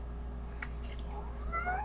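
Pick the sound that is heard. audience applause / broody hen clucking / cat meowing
cat meowing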